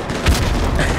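A grenade goes off in Call of Duty: Modern Warfare 2 Remastered: one short, deep boom over dense, constant game noise.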